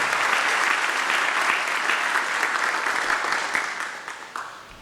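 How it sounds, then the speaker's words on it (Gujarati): An indoor seminar audience claps loudly in sustained, dense applause that holds steady for several seconds before gradually thinning and fading out. "આપણે બધા જ છેક રોડ સુધી સંભળાય એટલી તાળીઓથી આ વાતને વધાવીએ."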